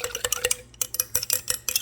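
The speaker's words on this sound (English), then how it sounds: "Okay, so we give that a little stir." A spoon stirring a winter punch cocktail, quick clinking and scraping strokes in an irregular rhythm, close and fairly quiet, with no talking.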